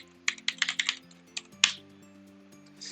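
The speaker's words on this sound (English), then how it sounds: "I am aware that the keyboard makes a lot of noise" Loud clacking of computer keyboard typing in a quick burst of keystrokes, then a few scattered single presses over a steady low electrical hum.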